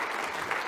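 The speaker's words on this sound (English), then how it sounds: "Warm applause, everyone." A brief burst of audience applause at a conference talk, a dense patter of many hands clapping, moderately quiet and steady.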